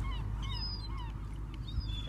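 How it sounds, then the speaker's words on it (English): Seagulls call over a beach, several sharp descending cries repeating one after another against a steady wash of wind and surf, moderately distant. "Looks like the seagulls want a bit."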